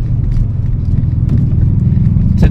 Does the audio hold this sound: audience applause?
no